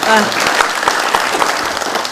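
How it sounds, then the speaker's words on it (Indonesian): An audience at a community empowerment and small-business event in Karanganyar claps steadily and fairly loudly for about two seconds, a dense even patter throughout. "Berikan tepuk tangan untuk Ibu Rina."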